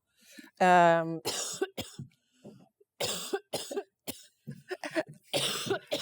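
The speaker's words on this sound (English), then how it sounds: "She starts to cough." A woman coughs in a short burst, followed by people talking and more brief coughs scattered between the speech.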